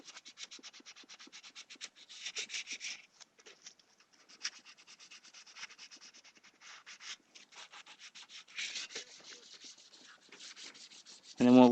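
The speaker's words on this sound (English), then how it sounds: "The whole purpose of wet sanding is to create a nice even surface of paint." Wet sanding of painted surface by hand, a run of quick rhythmic rubbing scratches, close and fairly soft, in repeated bursts with brief pauses.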